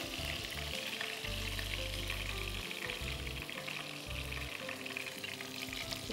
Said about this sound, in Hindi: ये वाली हरी मिर्चें जो हमने भरी थी। अच्छा, उनको आप फ्राई करेंगे? इनको हम हल्का सा फ्राई करते हैं।